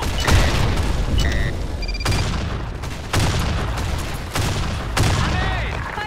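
Grenade explosions and gunfire in the shooter BlackShot SEA, loud booms and sharp cracks repeating every second or so over constant battle noise, with game voice callouts mixed in.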